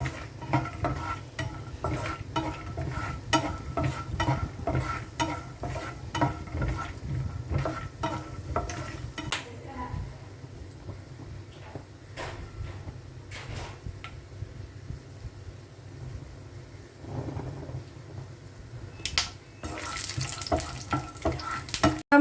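Peanuts frying in oil in a pan for lemon rice, with a spatula scraping and stirring in steady repeated strokes over a continuous sizzle, close and alone.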